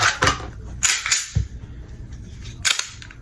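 Sharp metallic clacks and snaps from a Glock pistol being cleared, several quick slide and action clicks in an irregular sequence, close and crisp.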